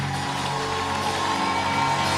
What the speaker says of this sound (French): Est-ce qu'on peut adorer le Seigneur avec les acclamations?